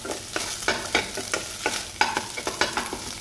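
An egg fries with fried potatoes in a pan, steady sizzling broken by repeated scraping stirs at an uneven rhythm, close and clear with no voices.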